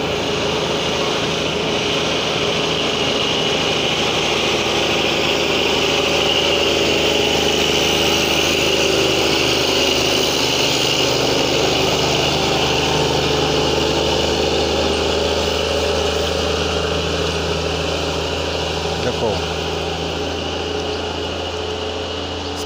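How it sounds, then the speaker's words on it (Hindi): A Tata trailer truck with a 250-horsepower diesel engine, registered in Rajasthan, idles close by in a loud, steady, unbroken drone with a low throb that continues unchanged for the whole stretch. "ये टाटा का ट्रेलर है, राजस्थान पासिंग गाड़ी है ये, 250 हॉर्स पावर की इंजन रहता है इसमें"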